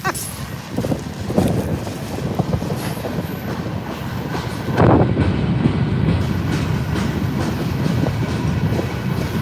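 A graffiti-covered freight train rolls past near a waterfront pathway, a continuous close rumble of wheels and clattering wagons that swells partway through.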